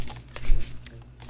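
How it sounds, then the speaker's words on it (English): Tarot cards are handled and gathered up from a pile, giving a brief close flurry of papery shuffling and sliding. "I am putting the cards away from pile 1"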